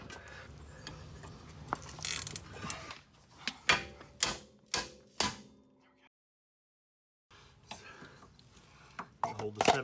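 A ratchet wrench clicks in short bursts while loosening the castle nut on a Honda Civic EF sedan axle, with a series of sharp metallic clicks and clanks up close, a pause of silence, then more handling noises.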